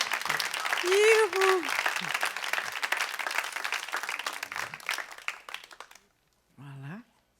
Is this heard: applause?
yes